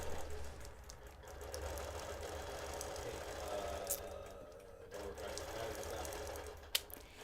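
A BERNINA Q-Matic longarm quilting system stitches an edge-to-edge quilt pattern with a steady, quiet motor hum and rapid needle chatter, faint and continuous, with a few small clicks.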